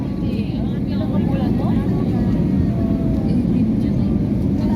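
Steady low roar of an airliner cabin on final approach to Davao International Airport, a broadband engine and airflow drone filling the space evenly while people speak over it.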